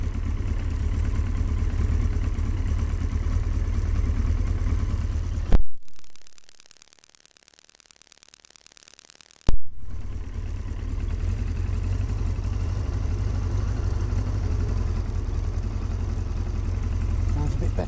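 A Yamaha XJ900S motorcycle engine idles roughly while warming up, a steady close low rumble that cuts out abruptly for about four seconds before catching again and running on, as if struggling not to stall.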